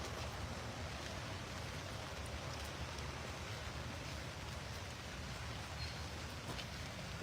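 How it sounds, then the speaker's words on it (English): Rain falling into a cemetery pond, a steady, dense patter of drops hitting the water alongside soft broadband hiss, continuous and even throughout with no voices. "Raindrops in the pond."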